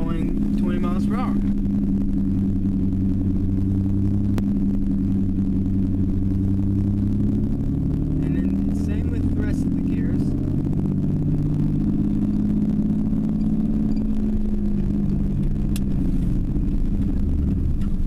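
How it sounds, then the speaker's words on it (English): A manual transmission car pulls away in second gear at about 20 mph, its engine giving a steady low rumble heard from inside, with shifting pitch as it gains speed. "put it in second, give it a little bit of gas, let out the clutch, and you're going 20 miles per hour"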